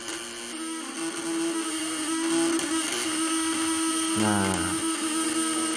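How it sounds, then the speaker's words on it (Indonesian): A small engine revved hard and held under load during a power test of a 200 to 1000 W device, a steady loud whine and drone with a rising pitch sweep near the end; a voice speaks briefly. "Ini geber, ini kalau ditahan dia naiknya tuh, lihat lampunya turun nih."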